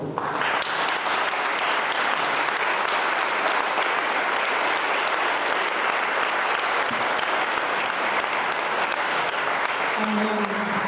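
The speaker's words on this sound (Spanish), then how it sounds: "um fuerte aplauso" Loud, sustained applause fills a church during a charismatic Catholic Pentecost Mass, a dense roar of many clapping hands that rises quickly and carries on for over ten seconds, with faint crowd sounds mixed in.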